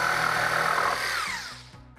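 A power tool whines loudly as it cuts half-round wooden strips, then the sound tapers and winds down toward the end, with no one talking.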